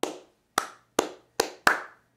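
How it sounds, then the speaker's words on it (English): Six crisp hand claps, dry and close, spaced in an uneven rhythm with short decays between them. "Or all you had were hand claps,"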